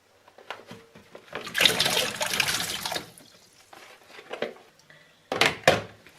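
Cherries being washed in water, with splashing and running water in bursts, a longer swirl in the middle and short splashes after, close by and moderately loud.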